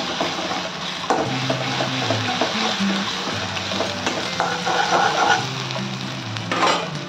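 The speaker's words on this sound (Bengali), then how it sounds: "1 চামচ আদা রসুন বাটা। এবার হালকা একটু ভেজে নেব।" Ginger garlic paste frying with onions in a pan, a steady sizzle with a spoon stirring and scraping at intervals, close and continuous with no talk.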